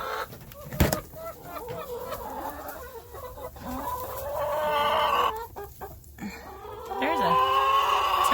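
Chickens cluck and squawk nearby in a coop, with bursts of busier calls, while a person talks over them and a sharp knock sounds early on.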